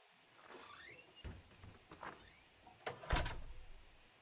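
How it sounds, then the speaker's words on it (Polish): Door opening in Counter-Strike: Global Offensive, a faint sliding creak and squeal followed by sharper scraping thuds near the end, with quiet background and no talk. "Mogę ci, otworzę ci drzwi."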